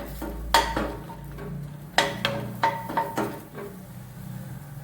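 Okra dry-roasting in a hot pan is stirred with a utensil, producing several sharp scraping clacks against the metal at irregular intervals over a quiet, low background hum.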